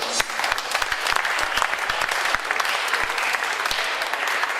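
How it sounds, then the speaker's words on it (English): An audience claps steadily for several seconds, a dense even patter of hands with a few sharper individual claps standing out near the front. "Please let's clap for Jesus for that."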